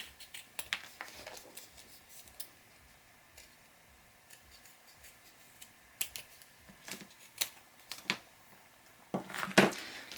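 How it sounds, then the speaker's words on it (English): Scissors snip through chipboard corners in a series of sharp, separate clicks and crunches, scattered irregularly over a quiet room with a cluster of louder cuts near the end. "all 4 of those we're going to just cut off a little bit at each end"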